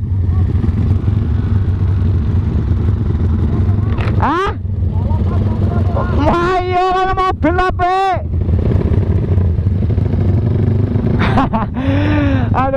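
Motorcycles rev hard at an Indonesian street drag race, several sharp rising throttle blips cutting through a constant loud engine rumble, with bursts clustered near the middle and end.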